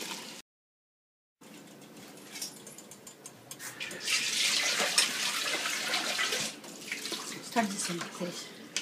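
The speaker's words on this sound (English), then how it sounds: "taking this boiled water and very carefully adding it into this" Boiled water is poured into a mutton biryani rice mixture in a rice cooker, giving a steady close splashing and gurgling stream that swells midway and trails off, after a brief silent gap at the start.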